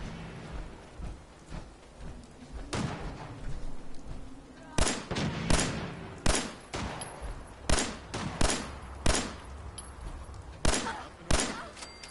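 Gunfire in Fallout 4 rings out as a series of loud, sharp shots, a few spaced early, then a rapid irregular string of close cracks over a low rumbling background.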